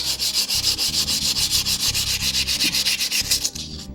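Wet scrubbing of rusty metal parts from a VZ-52 rifle during restoration, a fast, rhythmic back-and-forth rasping of about seven strokes per second, close and loud, stopping abruptly near the end.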